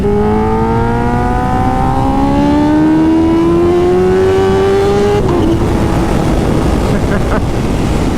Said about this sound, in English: that was 3rd gear, just lifting up at like half throttle.